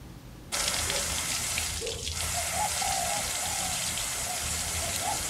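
Water sprayed over a Royal Enfield motorcycle and its front mudguard while washing it, a sudden steady rushing hiss that starts after a brief quiet moment and runs on evenly and close by.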